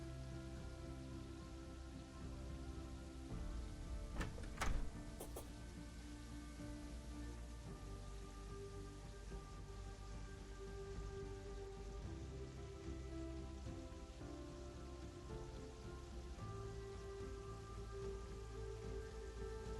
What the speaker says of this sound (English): oh, yeah, it's also raining